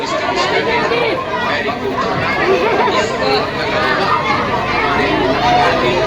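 A dense crowd of women queuing at Shambhunath temple in Barrackpore during the jal yatra on the last Monday of Shravan, a steady babble of many voices close by and all around.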